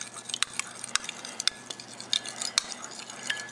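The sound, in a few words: eggs being mixed in a bowl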